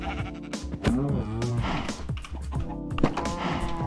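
Repeated sheep bleats from Minecraft, synthetic and game-like, overlapping over a steady bed of looping background sound.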